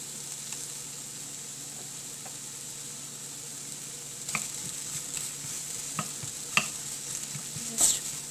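Chopped onions with ginger and garlic frying in a pan for a tofu kofta curry, a steady soft sizzle with occasional sharper stirring scrapes and clinks, no talking.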